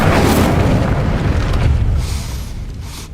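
Incendio fire spell cast in the Hogwarts Legacy video game, a loud whooshing boom of flame that holds strongly for about two seconds, then fades into a softer rumbling tail.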